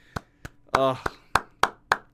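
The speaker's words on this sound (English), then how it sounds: "Everyone give Rook a round of applause" A single person claps about seven times in a slow, uneven rhythm, each clap sharp and close, with a brief voiced sound cutting in partway through on a livestream.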